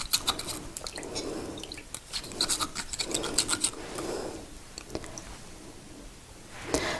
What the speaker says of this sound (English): I'm just going to use one of these welding rods to help me push it